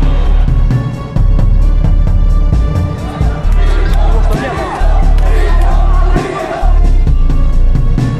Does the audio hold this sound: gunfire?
no